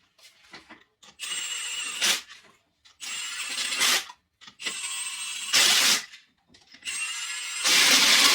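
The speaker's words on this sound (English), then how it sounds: "I'm going to get this tire all bolted up" Lug nuts being run onto a low-profile tire and wheel on a golf cart, a ratcheting tool clicking in four bursts of rapid, close mechanical ratcheting separated by short pauses, with no talking.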